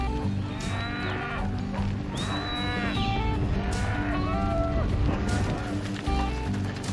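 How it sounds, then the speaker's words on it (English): A herd of about 400 cattle in Patagonia lows repeatedly, with several moos overlapping and rising and falling over a continuous low rumble of hooves and movement. "This is Facundo, who looks after 400 head of cattle"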